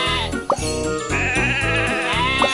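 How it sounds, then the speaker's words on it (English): A cartoonish sheep bleats loudly in the Thomas & Friends Magic Tracks video game, a drawn-out wavering call with a second short bleat near the end, heard alone and up close. "Some sheep have wandered off from the farm."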